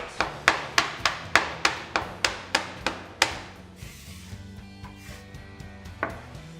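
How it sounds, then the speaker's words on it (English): A knife chops through soft gnocchi dough on a board in a steady series of about ten crisp, close taps, then a few softer, sparser cuts with a faint background hum. "We're going to cut them like this."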